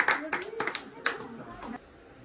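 Brief burst of clapping at a wedding celebration, several sharp claps in quick succession under lively overlapping voices, fading out after under two seconds.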